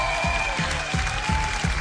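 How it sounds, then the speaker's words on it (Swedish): Audience applause at a rap battle between Shan Atci and Jacob Öqvist, a steady crowd wash with rhythmic stomps or beats pulsing underneath, moderately loud and continuous with no voices. "Applådera nu!"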